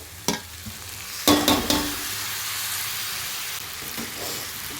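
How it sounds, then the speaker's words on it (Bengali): Chicken curry pieces stir-fried in a pan over a medium flame, with a few sharp scraping stirs early on over a steady, close, crackling sizzle that carries on to the end. "এবার মাংসটা ভালো করে কষে নেবো, একটু ঢাকা দিয়ে দিয়ে মিডিয়াম ফ্লেমে একটু ঢাকা দিয়ে দিয়ে কষে নেবো।"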